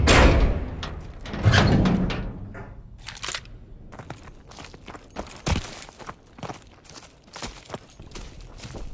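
Door opened in Call of Duty: WWII, with heavy thuds and a creaking push early on, followed by scattered footsteps and knocks nearby.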